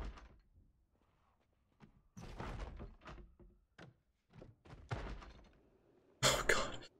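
Zombies in Project Zomboid pounding on a door, heavy irregular thuds and bangs in bursts separated by quiet gaps, ending in a loud crashing slam.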